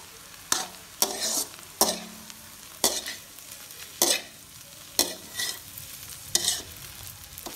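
Spicy bread fry mixed with fish curry is stirred in a pan, with evenly spaced scraping strokes of a spatula roughly every second over a soft sizzle, close and clear.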